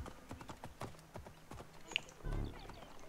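Horse hooves clip-clop in a steady trotting rhythm in the Assassin's Creed Origins video game, light and moderately close, ending with a brief heavier rumble and a short bright tone.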